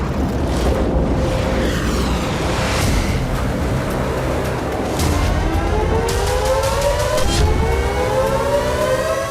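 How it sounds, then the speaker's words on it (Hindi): Air raid sirens wail across parts of Israel during a Houthi missile attack, their rising and falling tones sweeping over a heavy, roaring background of wind-like noise and rumble. "हमले की भनक लगते ही इजराइल के कई इलाकों में सायरन गूंजने लगे"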